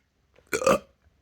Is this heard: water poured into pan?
no